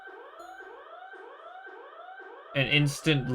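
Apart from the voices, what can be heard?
containment breach alarm in SCP dating video game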